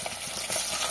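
Fish sizzling and frying in a pan at home, a steady broadband crackle with faint stirring bumps, close and moderately loud, with no talking.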